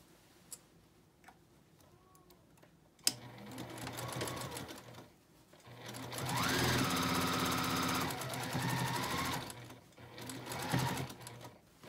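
A sewing machine stitches binding onto a quilted tea cozy in bursts, each run a close, steady mechanical hum with rhythmic ticking, separated by quieter pauses with faint clicks.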